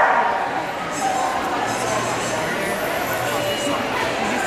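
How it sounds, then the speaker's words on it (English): Dogs barking at a busy indoor pet expo, scattered yips and barks mixed into a constant crowd murmur with people talking nearby. "Still dogs around."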